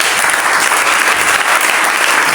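A church congregation at a Sunday service applauding, dense and loud continuous clapping from many hands filling the room without a break.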